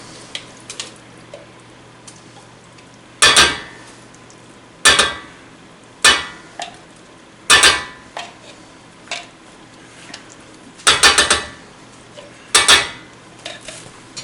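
Metal pots and utensils clatter and knock in sharp, separate clanks every second or two as pumpkin goes into broth in a pan for pumpkin soup, with a faint simmer underneath and no talking.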